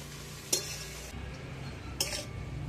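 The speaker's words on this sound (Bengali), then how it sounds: "এই সব কিছু দিয়ে আমি নেড়ে চেড়ে বেশ সুন্দর করে ফুলকপির পুরটা তৈরি করে দিচ্ছি" Cauliflower samosa filling stirred in a pan over a steady low sizzle, with two sharp spoon scrapes against the metal, close and clear, and no voices.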